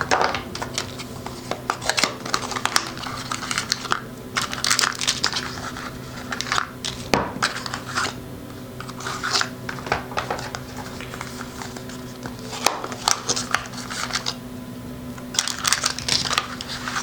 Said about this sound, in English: So let's take out all 4 motors.